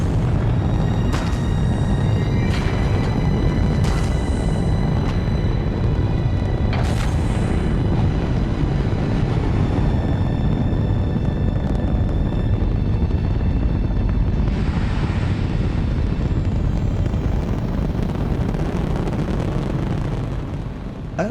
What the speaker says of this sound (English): This incredible NASA footage shows the launch of Apollo 11 on the first manned lunar landing in July